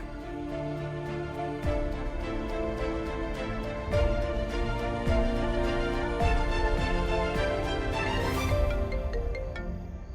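A melodic phone ringtone plays continuously, a repeating electronic tune with steady rhythm and bright tones, loud and close.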